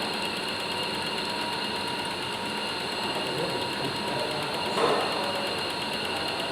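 Centre lathe gears turn steadily, giving a continuous high mechanical whine and hum with a brief clatter near the end, while someone talks quietly over it.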